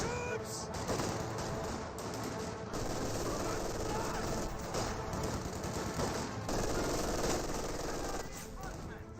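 Dense, continuous machine-gun fire from an MG42 in Company of Heroes 2, a sustained loud rattle of bursts layered with other battlefield gunfire and explosions, with a voice talking over it.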